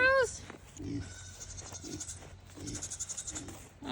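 Wet goats on a homestead farm bleating repeatedly in short wavering cries close to the microphone, with a person talking softly among them.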